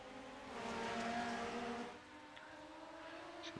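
Race cars in an iRacing heat race on track, a steady whining engine drone that swells as cars pass close, then settles into a lower, more distant hum.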